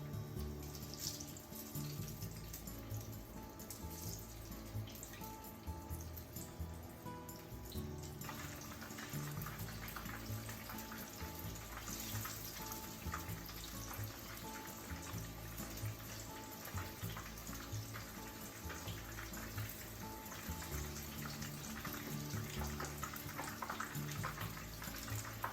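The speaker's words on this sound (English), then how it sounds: "fry them for about 2 minutes on each side" Shrimp and edamame egg rolls fry in oil with a steady, faint crackling sizzle that stays continuous throughout, brightening slightly partway through, with no talk.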